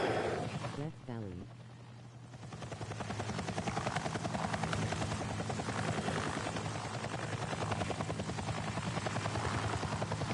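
A helicopter in a tank video game, its rotor thumping steadily and loudly throughout, briefly dipping early on before returning strong, with speech mixed in underneath.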